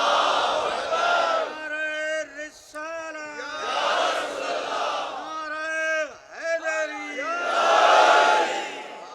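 A large crowd at a majlis chants the takbir slogan in loud, sustained unison, with voices rising and falling in repeated waves that swell again after each short pause.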